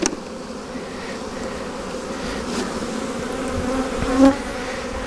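Honey bees hum steadily inside a hive where the queen has just been placed, a dense, continuous buzz that stays even and close throughout, with one slightly louder swell near the end.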